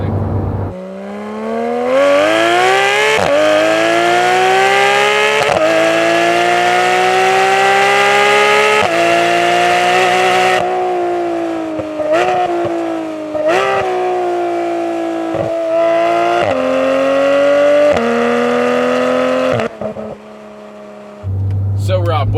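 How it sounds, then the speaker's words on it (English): Porsche 997 GT3 flat-six fitted with a new Rennsport muffler and side muffler bypass, heard from inside the car as a loud, sustained engine note rising steadily through the revs, with brief dips at gear changes before easing off near the end. "right now we've got our brand new Rennsport muffler, and we also have our side muffler bypass"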